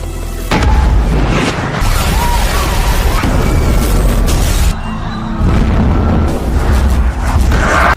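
A deep, booming explosion in the horror game Home Sweet Home: Rebirth, loud and sustained with heavy low rumble and a brief dip before the blast rolls on.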